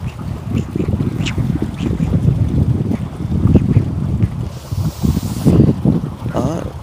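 A flock of ducks forages in a dry, harvested rice field, with scattered quacks and chatter over gusty wind noise hitting the microphone, fairly close and busy.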